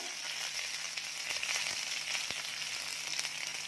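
Curry leaves dropped into hot oil with spluttering mustard seeds for a cabbage dish, a steady close sizzle with scattered crackling pops, moderately quiet and without speech.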